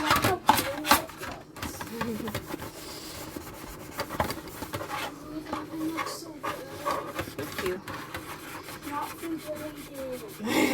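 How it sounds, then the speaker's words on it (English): Close, uneven rasping strokes come from someone scrubbing a kitchen stove, rubbing back and forth continuously, with faint voices in the background. "I'm just scrubbing up the"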